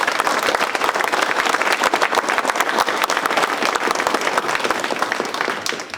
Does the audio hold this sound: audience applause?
yes